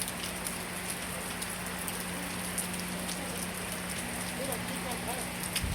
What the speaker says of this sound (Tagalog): wala nang tigil ang ulan